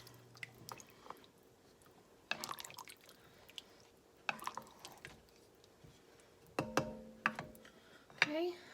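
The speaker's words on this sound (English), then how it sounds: "I'm gonna give this a stir." Canned light red kidney beans and black beans being stirred in a pot of chicken tortilla soup, with intermittent wet squishing, scraping and drips in short bursts, close and quiet.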